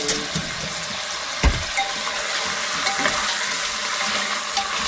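Meat browning in a clay pot for Filipino soup, a steady sizzle and frying hiss with occasional stirring knocks against the pot, no voices.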